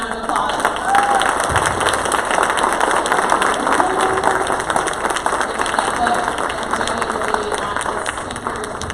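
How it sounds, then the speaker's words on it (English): A conference audience at a San Diego event gives a sustained round of applause, thick and continuous, with some cheering and crowd noise mixed in. It stays loud and even from start to finish. "one more round of applause"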